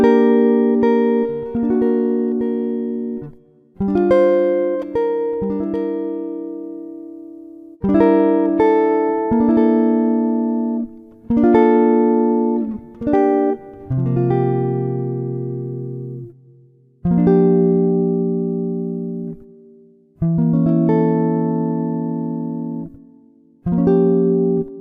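Solo jazz guitar arrangement plays a B section, with plucked chords and single notes ringing and decaying in a slow, spacious rhythm, played alone and clearly.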